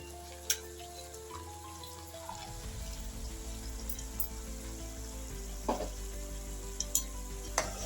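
Lentils tossed into hot oil with a pinch of asafoetida in a pan for jowar millet khichdi, frying with a steady low sizzle, stirred by a spoon with a few sharp scrapes against the pan and no voices.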